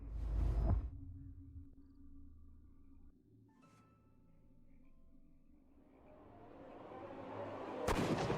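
A single loud, sharp gunshot from the Sherlock Holmes: Crimes and Punishments video game bursts at the start and leaves a low rumbling tail, with a quieter whoosh building toward a second sharp crack at the end.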